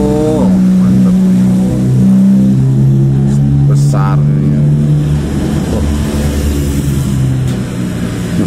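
A new motorcycle engine revs close by with a loud, droning tone that rises and holds in pitch, and people talk over it.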